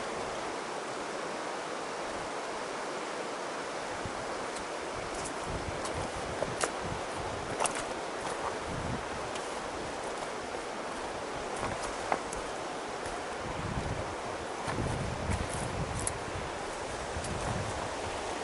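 A channelled river flows in a steady, rushing wash throughout, close and fairly loud, with faint rustling on top and no voices.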